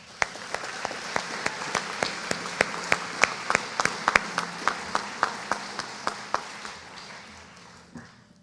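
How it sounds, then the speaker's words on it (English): Audience applause for parents at a 4-H awards ceremony, steady clapping with a few prominent individual claps standing out in a fairly even rhythm, continuing for several seconds before fading out near the end. "I want to give the parents a round of applause"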